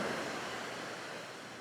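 Ocean surf with the tide coming in rolls in as a steady, soft hiss of breaking waves, fairly faint and even, with a little wind noise over it.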